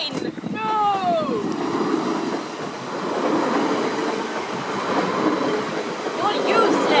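A train rumbles past nearby in Hong Kong, a steady broadband roar with faint rail clatter filling the clip, while voices shout and talk over it.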